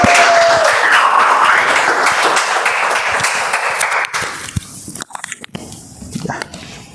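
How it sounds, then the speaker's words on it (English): A Toastmasters club meeting audience breaks into loud, dense applause and cheering, sustained for about four seconds before thinning into scattered final claps. "Let's give him a hoo and a ha and a thundering applause."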